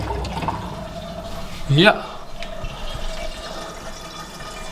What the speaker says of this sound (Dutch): Zetten we de pomp weer aan.